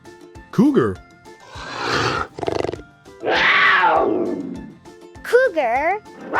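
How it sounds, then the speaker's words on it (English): A cougar gives several loud, close roaring and screaming calls, harsh sustained cries alternating with shorter yowls and a wavering cry at the end. "Cougar."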